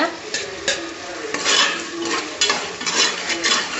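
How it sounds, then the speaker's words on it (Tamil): Tomatoes being sautéed and stirred in a hot pan for vegetable paneer biryani: rhythmic scraping spoon strokes over a soft sizzle, close and steady. "தக்காளி போட்டு நல்லா வதக்கிக்கோங்க"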